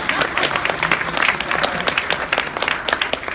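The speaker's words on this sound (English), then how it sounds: "let's give a round of applause." Audience applause at a horror convention Q&A in Orlando, steady clapping across the whole stretch with a few faint voices mixed in.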